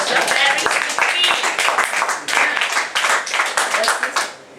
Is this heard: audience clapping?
yes